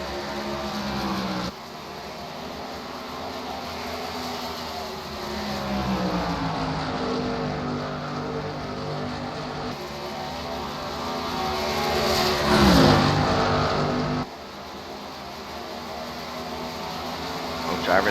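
Stock cars race at Darlington in the Southern 500, their engines droning and rising in pitch as they pass, with a louder surge near the middle and commentary running over the noise.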